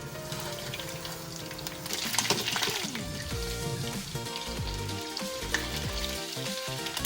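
Swedish meatballs sizzle steadily as they fry in hot oil, a constant crackling hiss with occasional clinks and scraping from the pan. Background music plays underneath throughout.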